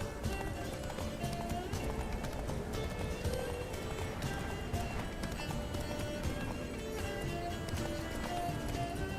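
Horse hooves galloping steadily in The Witcher 3 Wild Hunt, a dense continuous clip-clop rhythm under game music and effects, with a brief whinny and voices talking over the ride.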